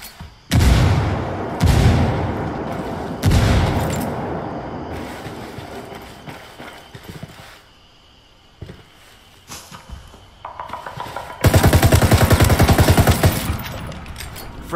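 Video game combat with a frag grenade explosion and heavy gunfire: loud booming blasts and bursts of automatic fire, several impacts in the first seconds, then a dense, sustained volley of shots near the end, with shouting voices mixed in.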